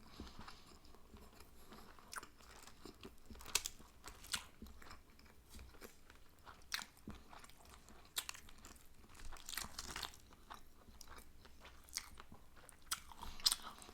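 Close, quiet chewing of sushi topped with fish eggs, with soft wet bites and faint crunchy pops repeating irregularly, and no talking.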